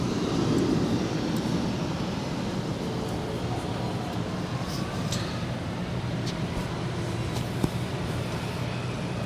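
Airplanes at Los Angeles LAX airport produce a continuous broad roar of jet engines, steady and moderately distant, with no talk over it.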